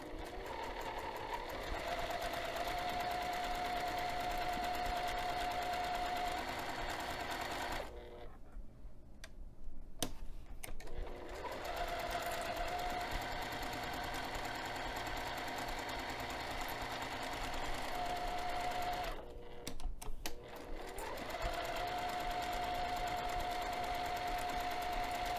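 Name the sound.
sewing machine with Teflon foot sewing a zipper pocket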